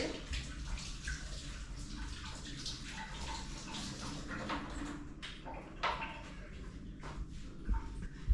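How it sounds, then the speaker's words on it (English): Running water splashes steadily over hands being washed at a kitchen sink during home cooking, a continuous close hiss with small splashes and no talking. "I have washed my hands, but let me wash them again."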